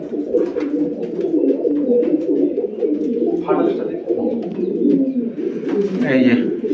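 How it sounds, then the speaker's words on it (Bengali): Nazra Kaldoma pigeons in a loft keep up a continuous low cooing and burbling, with a person talking over the birds through most of the stretch. "চটিয়াল পুরো সুপার কোয়ালিটির পায়রা"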